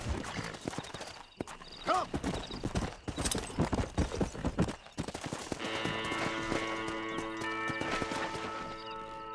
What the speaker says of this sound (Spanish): ¡Muévete, caballo de mierda!